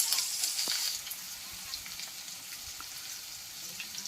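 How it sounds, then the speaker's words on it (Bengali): Garlic paste fries in hot oil in a pan with a soft, steady sizzle and occasional crackles, quiet and close. "রসুনটাকে একটু ভালো করে ভেজে নেব"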